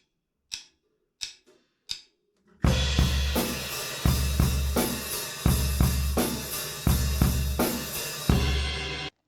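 Full drum kit playing the two-bar transition groove from a song, with loosened, washy hi-hats over steady kick and snare hits, after a few sparse stick clicks count it in; loud and close, no talking.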